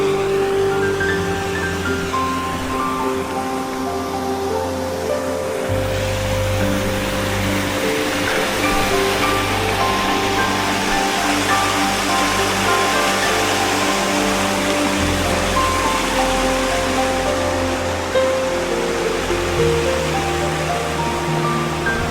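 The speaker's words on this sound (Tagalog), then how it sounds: "Uy, dito may maliit na falls" A small waterfall splashes steadily nearby, a constant broadband rush of falling water that stays even throughout with no voices.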